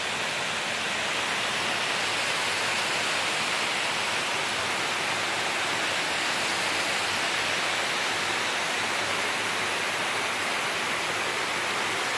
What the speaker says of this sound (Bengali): জলটা এই দিক দিয়ে এসে এই যে দেখুন আবার নিচে পড়ছে।